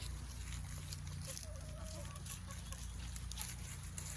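Older hens on a homestead cluck faintly in the distance, soft scattered calls under a steady low hum and background noise.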